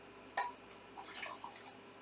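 Boiling water poured from a kettle into a measuring cup in a home kitchen, heard as a brief close splash followed by faint trickling and dripping, with no talking.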